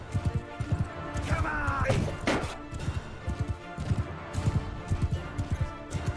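Horses galloping in Bannerlord, a Game of Thrones mod battle, with rhythmic hoofbeats pounding steadily through the clip, briefly swamped by a loud clashing burst, while a voice speaks briefly over them.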